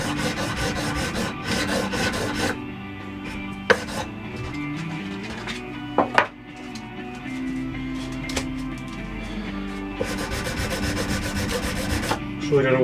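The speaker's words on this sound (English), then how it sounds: "it's just really rough sanding" Rough rasping strokes from sanding wooden knife scales, loud and close. Repeated back-and-forth bursts are broken by pauses, with a few sharp knocks in between.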